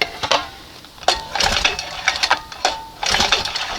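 A 1971 Johnson 20 HP outboard motor is pull-started up close: several quick rattling cord pulls crank the engine in uneven bursts, each followed by a brief pause.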